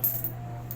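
Coins being counted and dropped by hand, small change clinking faintly in a short steady burst over a low constant hum.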